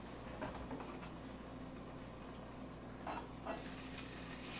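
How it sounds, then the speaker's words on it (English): Bratwurst sizzling in a covered cast iron skillet, a quiet continuous crackle and hiss with a few faint clinks, and no voices. "you can hear them, they're sizzling and everything"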